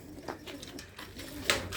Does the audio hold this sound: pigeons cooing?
yes